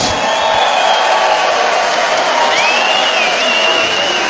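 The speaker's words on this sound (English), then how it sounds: "can we please have a round of applause for these two heavyweight warriors?" Boxing arena crowd applauding two heavyweight fighters, a dense, continuous roar of clapping and cheering at high, even loudness with no pauses.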